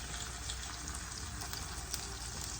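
A tortilla sizzling in a shallow layer of hot oil for beef birria, a steady close frying hiss with faint crackles and no talking.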